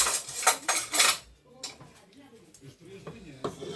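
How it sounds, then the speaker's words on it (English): Metal cutlery clinks and scrapes against a dish as rice is spooned in for duck with rice, several sharp rhythmic clanks at first, then softer scraping and taps, with speech faintly underneath. "So now I'll be adding the rice into the dish."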